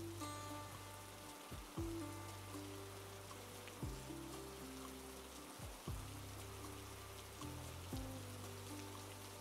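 Cartoon monsoon rain at the start of the Ashar rainy season patters in a steady hiss beneath sustained background music, with no voices.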